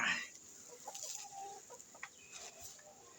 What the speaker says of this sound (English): These chickens are already full, but they keep following me